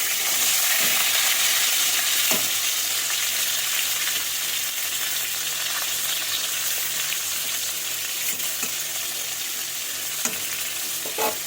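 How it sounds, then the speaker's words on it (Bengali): Pointed gourd (potol) fries steadily in a pan, a loud, continuous close-up sizzle with a few faint stirring knocks and no talking. "সব পটলগুলো দিয়ে দিলাম দিয়ে এবার আস্তে আস্তে কিন্তু এটাকে ভেজে নেবো"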